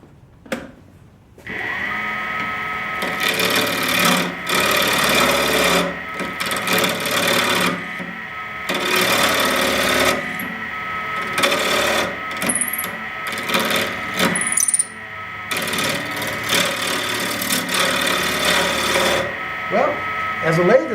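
A WEN 3420 8-by-12-inch variable-speed benchtop wood lathe runs with a steady motor whine while turning a rough, out-of-square wood blank, with repeated loud bursts of scraping and cutting noise over roughly twenty seconds.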